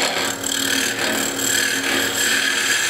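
A wood lathe spins a bishop chess piece while a skew chisel reduces its diameter, giving a loud, steady whirring and scraping that pulses slightly, with no voices.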